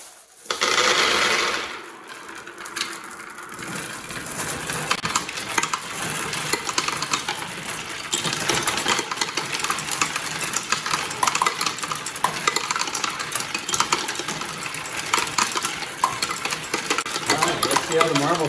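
A homemade wooden marble machine runs with its marble pump, giving a continuous busy clatter and rattle of marbles rolling and clicking, starting with a brief louder burst and then a steady dense rattle.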